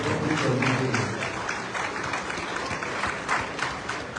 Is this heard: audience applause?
yes